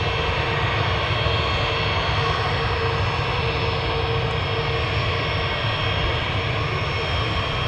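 A jet airliner at Manchester Airport, heard as a steady, loud engine roar with a constant whine that holds unchanged throughout, with no voices over it.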